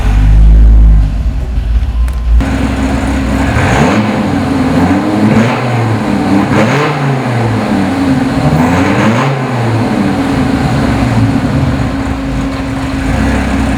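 A 1996 Dodge Viper GTS engine cranks briefly, then settles into a steady, loud, lumpy idle with small swells in revs, heard up close and alone.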